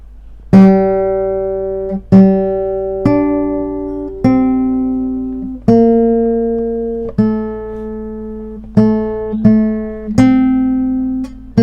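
Plucked guitar notes of a melody ring out one at a time, slow and steady, each note sustaining and decaying before the next.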